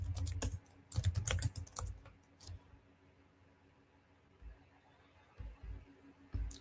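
Typing on a computer keyboard at close range, a quick flurry of key clicks at the start, then a quiet pause and a few scattered taps, with no talking.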